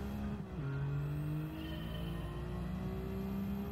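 A Japanese rally car engine in Gran Turismo 7 drones steadily at moderate volume, its pitch stepping up through gear changes with a low rumbling undertone and no talk.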